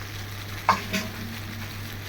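Spinach chutney cooking in a frying pan, a low steady sizzle with one or two brief stirring scrapes, close and fairly quiet.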